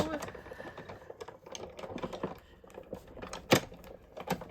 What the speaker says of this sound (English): Sometimes my dies going through my Sizzix takes more than a couple of times to go through.